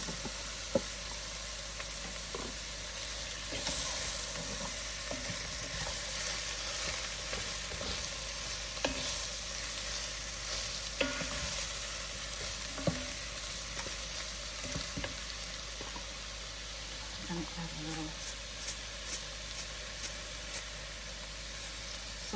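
Mushrooms frying in a pan for chicken Marengo, a steady close sizzle with soft stirring scrapes and clicks of a utensil throughout, no talking.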